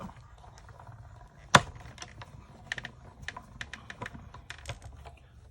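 A hand-cranked die-cutting machine pulling a plate through, heard as a sharp clunk followed by quiet irregular clicking and ratcheting ticks, close but soft.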